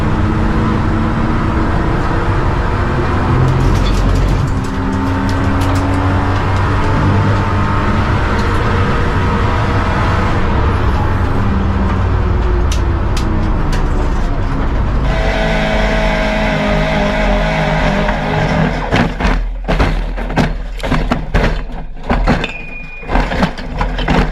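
Race cars roar loudly and continuously on a wet motorsport track where several cars have aquaplaned off at turn 6, engine noise swelling with passing bursts and choppy fluctuations toward the end.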